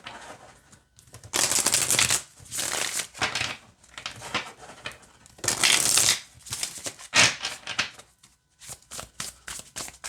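Tarot cards are riffle-shuffled several times, each burst a quick fluttering rattle, with softer tapping and squaring of the deck between shuffles, close up.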